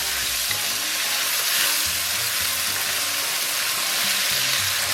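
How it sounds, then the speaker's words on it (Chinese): Spices being stir-fried in a wok with a splash of soy sauce, part of cooking a braised pork knuckle: a steady, close sizzle with faint stirring, with no talking. "然后咱们把提前准备好的香料给它下里边，简单煸炒一下"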